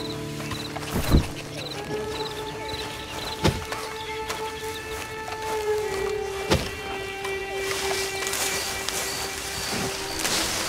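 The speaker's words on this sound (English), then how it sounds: "Then you better get on this horse." Hollow horse hoof clip-clops thud at a few irregular moments over a steady, busy Red Dead Online tutorial soundscape with sustained tones and faint chatter.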